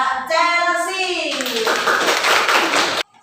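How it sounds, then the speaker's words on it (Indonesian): Classroom applause breaking out after a voice calls out, a burst of many hands clapping loudly for a couple of seconds before stopping abruptly. "Tepuk tangan untuk Mbak Chelsea."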